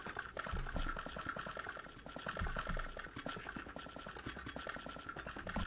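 Stone being turned into building blocks by a Botania flower in Minecraft: a dense, fast-repeating crackle and gurgle, like a sizzling bubbling churn, running steadily for several seconds without talk.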